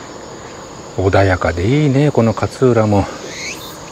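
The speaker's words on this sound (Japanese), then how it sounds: "セミの声" Cicadas in summer at Katsuura on the Boso Peninsula give a steady, high, continuous drone heard throughout, while a person talks over it in the middle.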